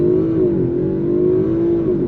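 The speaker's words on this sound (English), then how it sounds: "All right, let's do another 0 to 60 run. Get going a little bit faster. All right, traction control off." A 2019 Audi RS5 Sportback (B9) launches hard from a standstill with traction control off, its engine note rising loud and steady through a continuous revving pull, close and alone with no voices.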